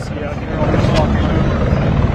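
A news helicopter hovers overhead above MacArthur Park in Los Angeles, its steady rotor drone continuous and fairly loud throughout, with a faint voice in the background.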